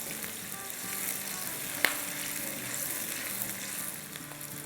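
Onions fry in a karahi for keema, giving a steady, close sizzle throughout with one brief clack of a utensil partway through.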